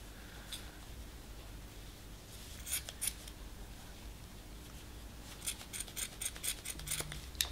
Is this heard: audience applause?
no